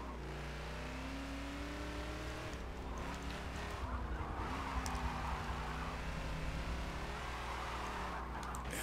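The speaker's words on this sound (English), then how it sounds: "That engine, though, sounds beautiful." Car engine in the Forza racing video game, a smooth sustained drone that climbs and shifts pitch as it revs through gears, with tire noise, steady and fairly close.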